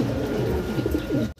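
Cream bar beauty pigeons coo nearby in a loft, soft rolling low calls repeating over a brief stretch before a sudden cutoff.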